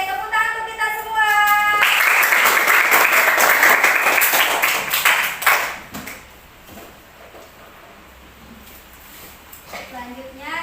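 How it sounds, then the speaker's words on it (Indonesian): Students in a classroom during a mathematics lesson clap together in a burst of lively applause that fades after several seconds, with a voice speaking before and after. "tepuk tangan untuk kita semua"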